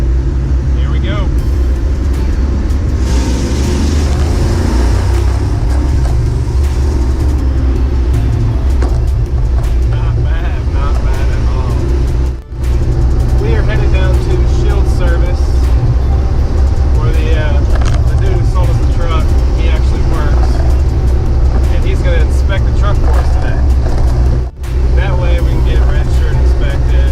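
Truck engine running in first gear through a tunnel, a loud continuous low rumble and drone that fills the whole stretch, with brief dips, while a voice talks over it.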